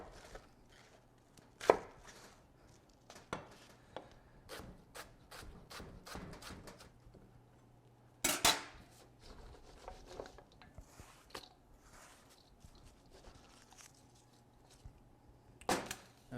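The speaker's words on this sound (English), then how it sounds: "So what I like to do is take nice thin pieces off of it and then shave it down from there." A knife shaves thin slices off a cabbage on a board, scattered quiet cuts with a few louder crunchy strokes spread over a long, mostly hushed stretch.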